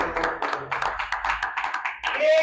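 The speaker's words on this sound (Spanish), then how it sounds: "Aplauso a nuestro Dios." A church congregation claps in praise during a Spanish-language sermon on marriage, a brisk run of claps lasting about two seconds before a voice comes in at the end.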